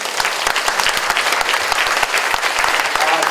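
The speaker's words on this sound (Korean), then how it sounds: "박수 한번 좀 주세요." An audience at a redevelopment briefing applauds with dense, steady clapping that fills the room for a few seconds, close and loud.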